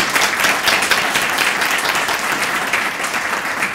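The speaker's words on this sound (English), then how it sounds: "especially give a round of applause to Reina" A round of applause from an audience at a bilingual preschool event, dense overlapping claps holding steady and strong from start to finish, easing slightly toward the end.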